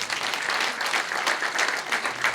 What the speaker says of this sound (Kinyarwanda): ngibyo n'amashyi menshi.